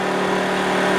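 A TACKLIFE inverter generator runs steadily under a load of about 500 to 600 watts, powering an air conditioner, with a constant loud engine hum and a sustained tonal drone and no pauses.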